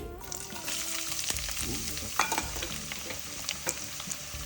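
Onions fry in hot oil with a continuous crackling sizzle, punctuated by scattered clicks and scrapes of stirring, close and moderately quiet.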